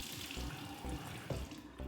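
Water running from a sink tap while a face is rinsed, a steady wash of flow with a few low splashing bumps, close by and with no talking.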